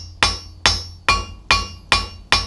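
A rounding hammer strikes hot metal being forged into tongs, six sharp ringing blows at an even pace of about two per second, each ringing briefly before the next; loud and close with no speech.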